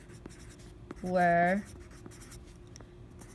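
Writing out an answer by hand: a short, squeaky stroke of about half a second rising above a quiet room, with faint talk around it.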